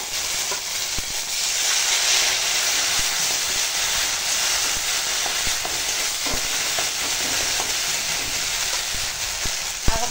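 Ground spice paste fries in a pan with slit green chillies, bay leaf and five-spice for a rohu fish curry, giving a loud, continuous sizzle and hiss with scattered stirring clicks and a sharp knock near the end.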